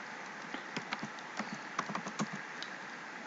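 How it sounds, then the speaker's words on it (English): Keys on a computer keyboard click in a quick, uneven run of light taps, close and moderately quiet, with no voices over them. "so let's say you type here"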